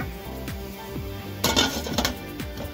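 A metal lid clanks onto a cooking pot of squash stew, with light kitchen clinks before and after one sharper, brighter clatter partway through.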